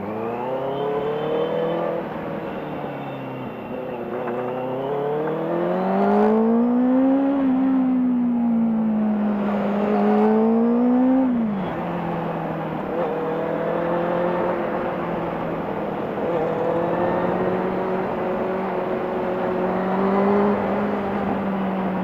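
A 2018 Benelli 600i ABS motorcycle engine accelerating, its note rising and falling through gears in a steady, close, continuous drone with no talk over it.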